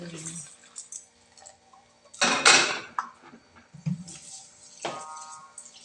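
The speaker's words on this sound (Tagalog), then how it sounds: "Ihalo ko na itong pangalawang gata sa langka" Coconut milk is stirred into jackfruit in a cooking pot, with scraping and clinking of a utensil against the pot in short bursts and one louder burst mid-way, while a person talks throughout.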